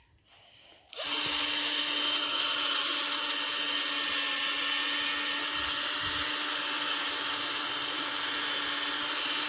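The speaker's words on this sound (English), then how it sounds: "But first we've got to take out the rivets, so we're going to do that. Just drill them out." A power drill spins up abruptly after a brief quiet moment and runs at a steady high whine as it bores out rivets on a crutch, loud and close for the rest of the clip.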